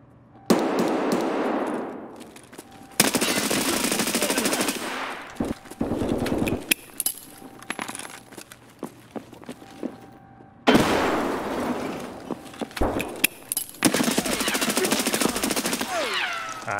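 Rapid automatic gunfire and a grenade blast from the shooter game Escape from Tarkov come in several loud, dense bursts, separated by quieter stretches of scattered shots.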